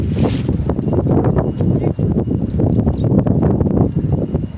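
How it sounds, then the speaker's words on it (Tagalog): Strong sea wind roars steadily across the microphone on a fishing outing by boat, a loud continuous buffeting rush with no clear breaks. "Malakas nga po pala ang hangin dyan, kaya nag voice over na lang ako."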